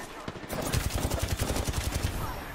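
Rapid automatic gunfire in a first-person shooter video game, a fast burst of sharp repeated shots rattling steadily for about two seconds, fairly loud and close, with a brief earlier pop.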